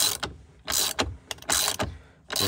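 A ratchet tightens the steering wheel nut on a 2015 Ford F150 during a Raptor steering wheel install, giving several short bursts of close, clicking ratcheting with brief pauses between strokes.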